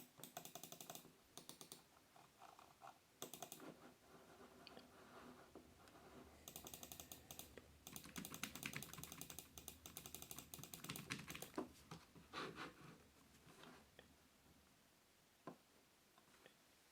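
Keys clatter in quick bursts of typing on a Perixx PERIDUO-211 wired keyboard, with mouse clicks mixed in, close and crisp, pausing briefly between runs with no talk.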